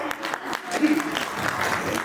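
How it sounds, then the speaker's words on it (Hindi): An audience at a Hindi poetry and shayari stage event applauds loudly to welcome a guest, a thick burst of clapping with a voice speaking over it. "जोरदार तालियों के साथ पहले उनका स्वागत किया जाए"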